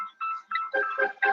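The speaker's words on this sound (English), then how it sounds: "That was the phone ringing." A phone rings with a bright electronic tone in several short bursts that rise and change pitch, loud and close, with no speech over it.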